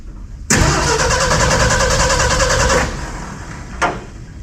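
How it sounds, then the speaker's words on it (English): A classic car engine cranks and fires into a loud, steady running roar for a couple of seconds, then drops back, with a brief sharp burst near the end; no talking. "the spark will occur and cause the engine to move,"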